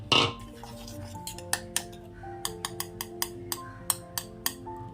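A spoon stirs ground herbal powder into a glass of moderately hot water, giving a run of sharp metallic clinks against the glass in a steady rhythm, close and clear, after a brief rustle at the start.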